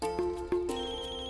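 A mobile phone left behind in a kitchen rings with a steady electronic tone, close and clear, with no talk over it.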